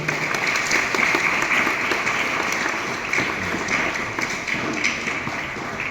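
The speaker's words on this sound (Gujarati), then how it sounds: "આપણે તાળીઓના ગગડાટથી એમને આવકારશું" A seminar audience at a school in Botad claps steadily in dense, continuous applause to welcome guests, filling the room at a loud, even level with no voices.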